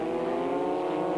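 Formula Vauxhall Junior race cars howl around the Ingliston circuit in 1991, a loud sustained multi-car engine drone with steady high revs and no talk over it.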